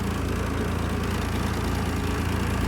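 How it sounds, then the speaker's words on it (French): A tractor engine runs steadily at an ecological park, a dense, continuous mechanical drone with a low idling rumble, close and loud throughout without change or pause. "notre meilleur moyen de déplacement au parc écologique, notre super tracteur"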